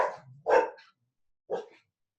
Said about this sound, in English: I have excited dogs.